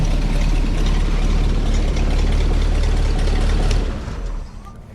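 A barn-find Camaro IROC-Z, sitting since the 1990s, runs loud and close with a heavy, rumbling, vibrating drone that holds steady, then drops off sharply near the end.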